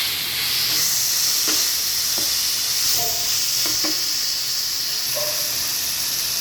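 Broccoli and peas frying in a pan for a curry, a steady loud sizzle and hiss throughout with occasional light clinks and stirring scrapes, no voices.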